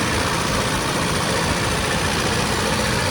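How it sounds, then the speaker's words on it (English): An old Nissan 4x4 truck engine idles steadily, a loud continuous low rumble with even vibration and no talking. "Very strong, the engine."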